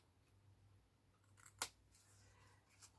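Scissors cutting the lid of a cardboard tealight box, a single sharp, close snip followed by quieter rustling of the card, with no talking.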